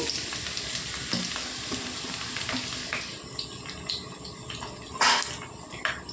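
Tender drumsticks, onions and green chillies fry in hot oil, giving a steady close sizzle with occasional stirring clatter and crackles, no voices.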